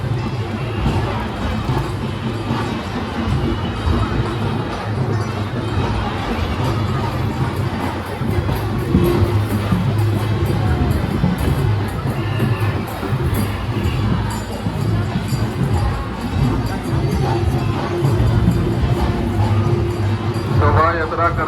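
A dense crowd at the Girgaon Gudi Padwa Shobha Yatra procession in Mumbai makes a loud, steady hubbub of many voices. It continues without a break, and nearby talk is heard within it.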